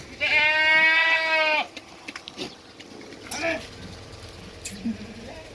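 One loud, long, nasal bleat of a goat on a goat farm, followed by quieter scattered calls and shuffling noises in the background.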